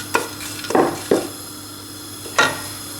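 Chopped shallot dropped into a little olive oil in a heavy-bottomed pot, with a low sizzle broken by several sharp utensil clatters and stirring knocks, close and quiet.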